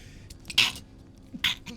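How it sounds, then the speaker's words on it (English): Two sharp, breathy bursts about a second apart, a close sneeze followed by a shorter second burst, with quiet background sound. "Oh, I sneezed."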